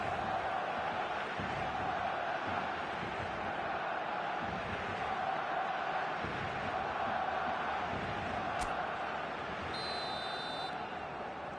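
A packed stadium crowd roaring after a Barcelona goal in a football match, a dense, sustained wall of cheering and shouting that stays loud throughout, with a brief whistle-like tone near the end.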